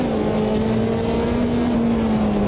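A race car engine in Automobilista 2 holding a steady, droning high rev as the rear wheels spin for grip on a small hill, continuous and fairly loud with no talking.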